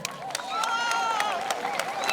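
A crowd at a bilingual high school in Nkongsamba applauds a teacher called forward. Fairly even clapping with sharp, separate claps is mixed with a prominent voice or vocalising throughout the short burst.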